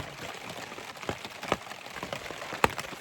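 Rain falling during a paddling trip on the Yukon River, a steady soft patter with scattered sharper drops tapping nearby surfaces, close and moderately quiet, with no talk.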